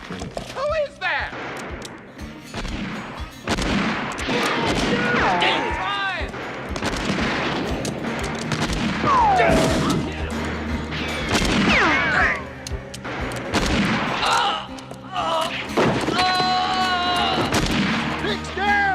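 Gunfire in a western movie scene, with repeated loud gunshots cracking out over the course of it, mixed with shouting voices, hoofbeats and a busy, chaotic action soundtrack.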